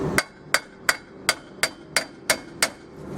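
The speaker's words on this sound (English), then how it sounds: "It is okay to hit the brake rotor with the hammer." Eight sharp metallic hammer strikes on a Mercedes 190 rear brake rotor ring out at a steady rhythm, each a clean clang on metal with a brief decay, close and alone.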